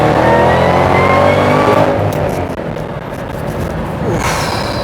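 A supercharged Shelby GT500 accelerates hard in second gear, its engine roaring loud and close with a rising rev, then easing before building again near the end.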